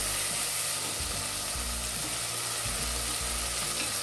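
Tomatoes frying in oil with coarse salt in a pan, a steady bright sizzle running continuously and close, with a low rumbling background underneath and no voices.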